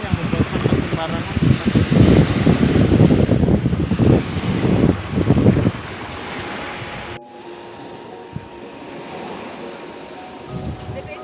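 Ocean surf washes in at Malalayang Beach, a tourist shoreline, with loud rolling waves and wind buffeting the microphone for about six seconds before the sound drops to a much quieter, distant wash.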